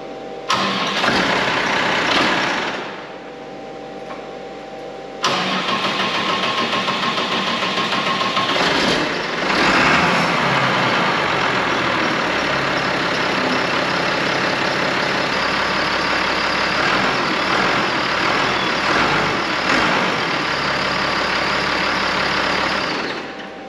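A tractor engine cranks and catches, dips briefly, then restarts and settles into a loud, steady, close running drone with no talking.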